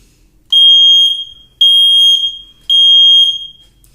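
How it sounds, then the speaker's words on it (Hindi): A smoke detector sounds three loud, shrill electronic beeps, each about a second long with short gaps between, while its test button is held down, with no other sound around them. "इसको अगर दबाएं तो ये बीप की आवाज़ आपको सुनाई देगी"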